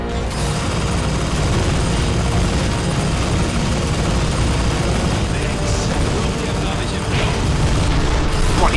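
Dense, continuous rapid-fire gunfire in Crysis 3 with booming low end fills the whole stretch, loud and unrelenting, with mechanical clatter layered in.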